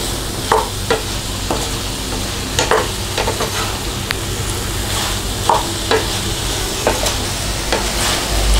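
Fried chilli chicken tossed and mixed in a hot pan, a loud steady sizzle broken by repeated scraping strokes and knocks of the spatula against the pan, close up with no voices.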